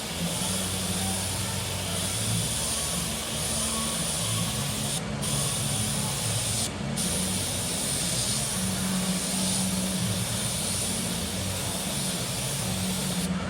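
An airbrush gun sprays paint in a steady, close, continuous hiss of air that carries on with only two very short breaks, and no voice is heard over it.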